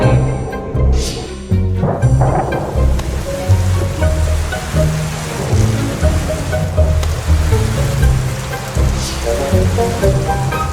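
Steady rain falling in the Amazon rainforest, a dense, loud patter of drops on leaves and surfaces that runs continuously without talk.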